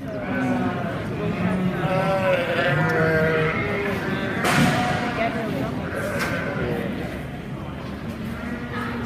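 At a sheep and wool show, several sheep bleat in wavering, drawn-out calls close by, mixed with people talking nearby in a busy shed and a sharp knock midway.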